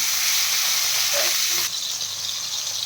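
Tangra fish frying in hot oil that was seasoned with salt and turmeric. A steady, close, loud sizzle and hiss carries on throughout, with no talking.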